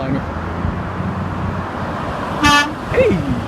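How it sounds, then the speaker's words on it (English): A Freightliner Classic semi truck's horn blasts once, loud and brief, on the I-10 highway, over steady road and engine noise, with a short tonal toot just after and a voice talking near the start. "Hey, he honked his horn."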